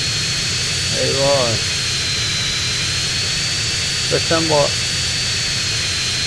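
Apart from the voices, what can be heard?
jet engine of aircraft in video game GTA San Andreas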